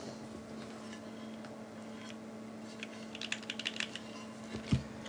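Typing on a Xeno mechanical keyboard with a POM plate, a sparse run of soft clacks in the second half, fairly near and quiet, over a steady low hum.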